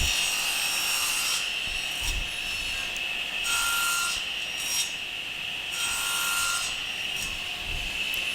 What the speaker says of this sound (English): And I just simply do this on the cross cut.